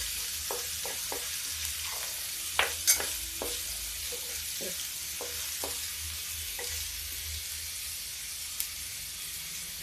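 Mustard seeds sizzle and pop in hot oil, with a steady hiss and scattered crackles and snaps, close by and without talking.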